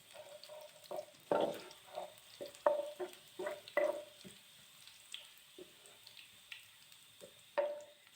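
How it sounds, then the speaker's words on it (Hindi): Finely chopped garlic frying lightly in a pan over medium heat for chicken spring roll stuffing: soft, intermittent sizzling bursts mixed with stirring and scraping, close and moderately quiet, with no talking. "इसे डाल दिया और इसको अच्छे से ना हल्का सा फ्राई करते हैं।"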